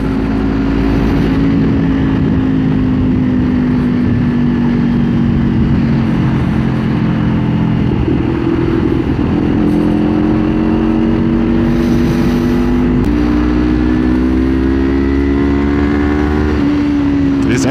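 A 2024 Kawasaki Ninja 500 motorcycle pulling hard on a hill, its engine note climbing steadily through the gears with loud, close rider-perspective drone and wind, shifting pitch as it picks up speed.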